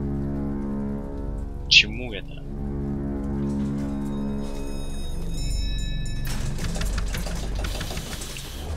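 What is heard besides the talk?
rain falling in the video game BioShock Infinite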